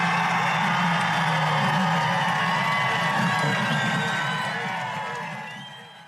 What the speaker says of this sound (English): the crowd is cheering and going on, and that goes on for a little bit